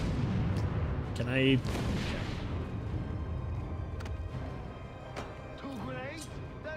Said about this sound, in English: Look, 2 grenades had to do it.